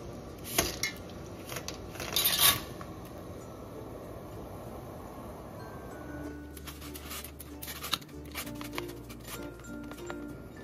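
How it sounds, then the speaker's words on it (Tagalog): Dry pasta poured into a pot of boiling water seasoned with a little cooking oil and salt: a few bright clattering bursts early on, then a steady low bubbling hum with scattered faint clinks. "Ngayon kumukulo na yung tubig natin, pwede na natin ilagay yung ating pasta."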